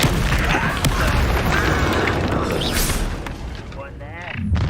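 A Confringo blasting spell in Hogwarts Legacy erupts in a loud, rumbling explosion that fills the space and slowly fades, with a voice speaking briefly near the end.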